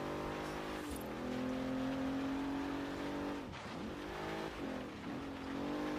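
A Bentley driven off-road over dirt and grass in the racing game Forza, its engine holding a steady loud drone that rises and dips with throttle changes, continuous throughout.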